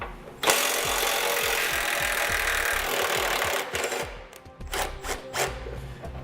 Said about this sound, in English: We're gonna be using a 13mm socket to pull them out.